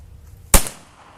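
Original 1892 Winchester rifle in .32-20 fired at a shooting range, one sharp loud crack with a short decaying tail, standing alone against quiet background.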